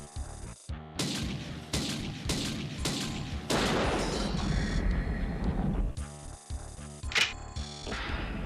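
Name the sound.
gunfire from shooting an enemy in a video game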